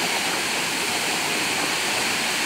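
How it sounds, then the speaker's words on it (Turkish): Yerköprü Waterfall in Mut, Mersin, pours with a loud, dense, unbroken rushing roar of falling water, heard up close without any voices. "şu an Mersin'in Mut ilçesindeki Yerköprü Şelalesi'ndeyiz"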